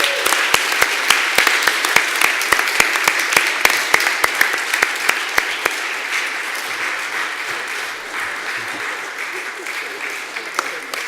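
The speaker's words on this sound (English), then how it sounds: "You give her a round of applause." Conference audience at PyCon UK 2017 applauds as a recipient comes up onto the stage, with dense clapping and sharp individual claps standing out early, the applause slowly thinning and fading over several seconds while voices murmur beneath.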